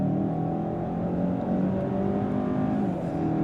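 A 2025 Kia K5 GT with its 290-horsepower engine pulling under throttle, a steady low drone with a broad rumble and smooth rise in tone, heard continuously and fairly close from inside the cabin with no voices.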